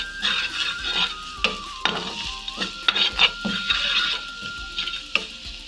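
Leeks stirred and frying in a pan for vegetable cutlets, with a steady sizzle broken by repeated close scraping strokes of a spoon against the pan, no voices.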